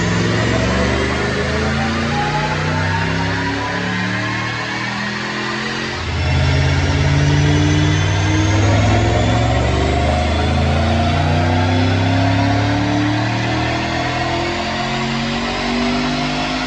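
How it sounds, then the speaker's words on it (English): A supercharged 2008 Ford Mustang GT with an Edelbrock supercharger, Brenspeed package, Hot Rod cams and an automatic transmission roars loudly and steadily during a Dynojet dyno pull, its pitch climbing throughout with no talk. "Check out this dyno pull."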